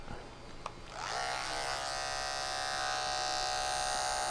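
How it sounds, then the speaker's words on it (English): An Andis Supra hair clipper fitted with a detachable number 2 guard switches on with a click and rises into a steady, close electric buzz that holds at an even level while a barber begins cutting a man's hair. "I usually start out with my Andis Supra with the detachable 2 on it."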